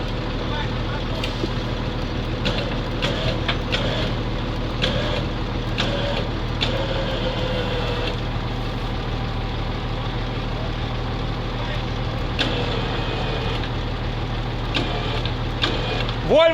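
A homemade Volvo tow truck pulls away under about 2.5 tonnes of load, its diesel engine a steady low rumble heard outdoors. People talk over it throughout, with occasional clanks and knocks.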